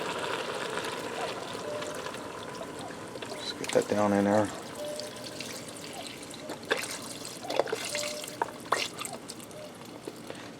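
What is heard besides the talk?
pouring chicken broth into a pressure cooker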